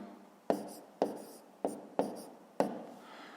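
Chalk or pen strokes writing out a long division problem for a fifth-grade math lesson: five sharp taps each followed by a brief scratchy stroke, close and clear, with no talk.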